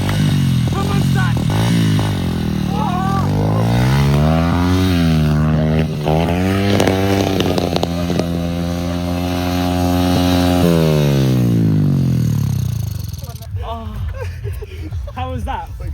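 A pit bike engine revs loudly and steadily up and down while being ridden, its pitch climbing and holding before cutting off, with voices talking briefly near the end.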